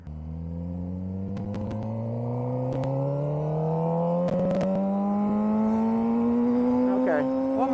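A motorcycle fitted with a CS Racing exhaust revs and climbs steadily in pitch, loud and close, on a morning ride with a few sharp clicks and pops along the way.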